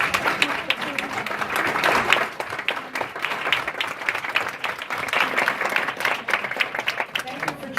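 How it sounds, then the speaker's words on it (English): An audience at a Montclair town hall meeting applauds a Boy Scout, dense clapping that swells and holds loudly throughout, with voices mixed in. "I think we should give him a round of applause"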